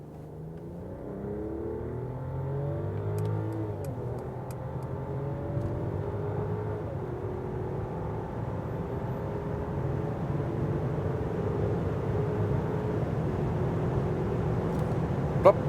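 A Mercedes S-Class S500 in sports mode accelerates from about 40 km/h, heard from inside as a low engine drone that climbs and grows steadily with rising road and wind roar, with no talking.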